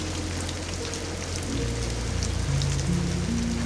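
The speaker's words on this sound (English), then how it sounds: "listening to rain trace its slow paths down the glass" Rain patters steadily on a train window at night while the carriage rolls through the Bordeaux wine country, a dense soft hiss of drops that swells a little louder partway through.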